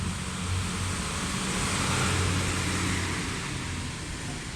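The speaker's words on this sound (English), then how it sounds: "Sorry, there's a truck just now." A truck passes along a road at a distance, giving a steady, broad low rumble and hiss that swells slightly and then eases, with no talking over it.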